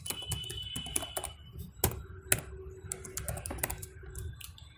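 Quiet typing on a computer keyboard while writing app code, with irregular clicks in short bursts, some louder individual key strikes, and faint background hum.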